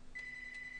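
A telephone rings with a thin, steady electronic tone that sounds alone at a moderate distance over faint room noise.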